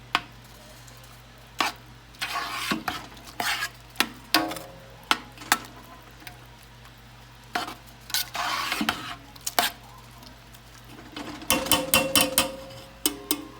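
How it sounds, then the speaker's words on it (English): A pot of strawberry rhubarb jam over medium-high heat starting to simmer, heard mostly as a string of sharp spoon-against-pot clinks and stirring scrapes over a low hum, with quiet bubbling between. "I have the heat on medium high and it's just starting to simmer"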